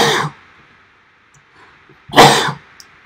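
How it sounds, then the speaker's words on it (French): A single sharp sneeze bursts out close by after a brief cough-like sound and a quiet pause. "Et en direct, on peut aussi éternuer. Excusez-moi pour ça."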